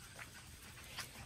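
Five-week-old British Labrador puppies give soft whimpers close by, two brief high cries standing out over a quiet, faint background.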